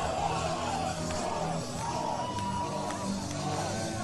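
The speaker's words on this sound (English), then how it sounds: "And listen to this crowd explode with the oys." A wrestling crowd in Reno roars and chants for the hometown team, a dense, constant wall of shouting voices with rising yells.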